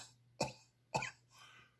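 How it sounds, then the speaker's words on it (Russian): Two short, sharp open-mouthed coughs from the throat rather than the chest, evenly spaced and close, followed by a softer breathy exhale, demonstrated as part of a breathing exercise against snoring. "покашляем с открытым ртом"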